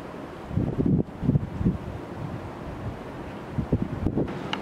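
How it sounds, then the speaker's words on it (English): Steady outdoor wind buffeting the microphone in cold weather, with low rumbling gusts that swell and fade, no voices present. "It's a little bit windy and it's cold"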